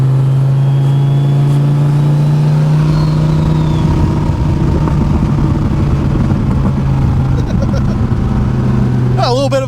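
A twin-turbo Dodge Viper ACR with a burble tune idling and revving lightly at low throttle, a loud, deep, steady engine drone that rises and roughens midway, ending with a short metallic rattle.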